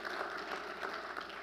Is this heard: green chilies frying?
no